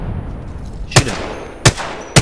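Three sharp, loud single gunshots ring out in a video game battle-royale match, spaced unevenly over a quiet background.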